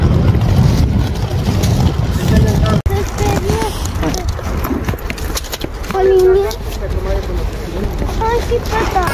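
Cold wind buffets the microphone outdoors in Târgu Jiu, Romania, a continuous loud rumbling roar with faint clopping hooves and voices talking over it.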